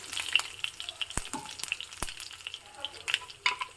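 Turmeric powder, curry leaves and a dried red chilli sizzle in hot oil for a Kumta Brahmin-style palya tempering. Irregular crackles and a few sharp pops sound over a soft, continuous fry.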